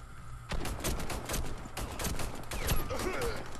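Rapid pistol gunshots crack out repeatedly in a Warface match on the Yard map during a bomb-plant round, loud and close amid continuous game noise, with a voice briefly audible in the mix.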